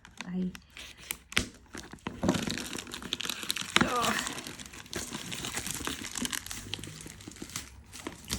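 Plastic wrap crinkles and tears as it is peeled off an oracle card deck, sharp crackling bursts and rustles coming close up between stretches of a person talking.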